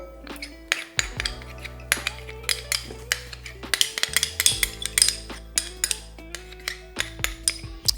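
Lamb shoulder marinade being mixed in a dish, with repeated clinks and scrapes of a utensil against the dish in an irregular rhythm, close and moderately loud, with no talking.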